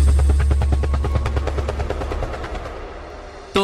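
A helicopter sound effect in a Brazilian funk track, the rotor chopping in a loud rapid rhythmic pulse that slowly fades, then a sharp hit cuts in at the end.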